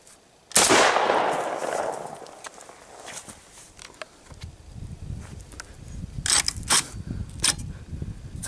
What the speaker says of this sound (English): Let's drop the mag, shoot this round in there.